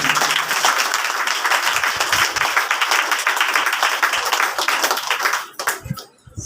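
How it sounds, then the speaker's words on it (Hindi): A church congregation claps together in sustained, dense applause that rings out loudly, then thins and fades away with a few last claps at the end. "थोड़ा ताली बजाकर खुदावंद का धन्यवाद करें।"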